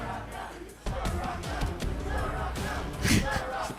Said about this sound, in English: banana chant going on in the crowd